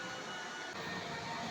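A blower runs steadily at moderate distance outdoors behind a house in the early evening, a constant whooshing drone with no change over the short span and no talking.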